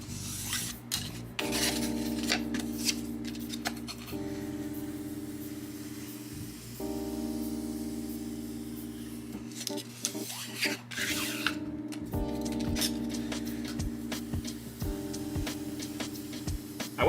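A wire cutter slicing through foam for miniature crates gives a steady raspy, rubbing sound with repeated strokes, close and quiet, with a faint tonal hum running underneath.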